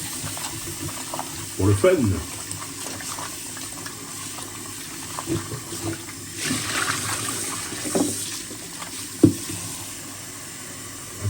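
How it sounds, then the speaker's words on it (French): Water running from a tap over sausages in a kitchen sink, rising in a few splashing bursts with soft clatters and thumps, a voice speaking briefly over it. "Les saucisses sont déjà rincées, mais je rince encore un coup"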